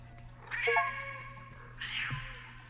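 A cat meows twice: two drawn-out, wavering cries about a second apart, the first a little louder, against a quiet low hum.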